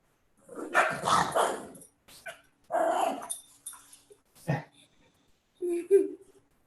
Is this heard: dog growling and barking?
yes